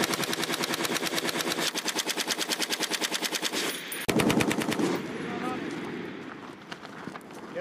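Machine gun firing tracer rounds during live-fire team training, a long rapid rhythmic burst, loud and close, that stops abruptly and gives way to voices talking and movement on the range.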